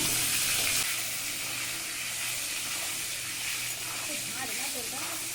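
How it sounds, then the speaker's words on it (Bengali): Potatoes fry in mustard oil in a wok, giving a steady broad hiss and sizzle that stays fairly loud throughout, with a faint voice underneath. "আলু লাল লাল করে ভেজে নেব।"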